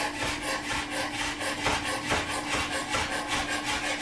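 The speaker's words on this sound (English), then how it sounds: "what I'll wind up doing is just slicing the shiitake up fairly thin" A knife slices shiitake mushroom caps thin on a cutting board in a steady run of close, crisp strokes, with no talking.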